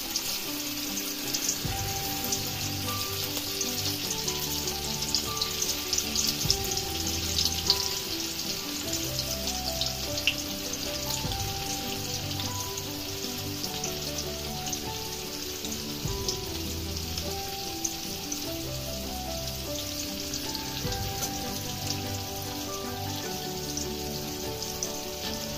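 Paneer pieces frying in hot oil give a continuous, moderately loud sizzling crackle like light rain, steady throughout with faint scattered pops.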